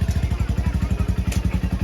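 A motorcycle engine runs close by with a loud, rapid, even thumping beat that holds steady for about two seconds, and no voices are heard.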